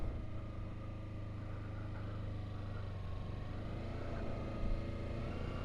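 Kawasaki Versys X300 motorcycle engine idling and lightly throttled during low-speed maneuvers, a steady mid-pitched drone with a low hum, continuous and fairly even, a small surge near the end.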